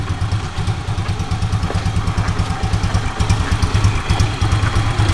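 2016 Kymco K-Pipe 124cc motorcycle engine idling on choke after starting, a close, steady low putter with rhythmic thumping pulses and light mechanical clatter, no voices.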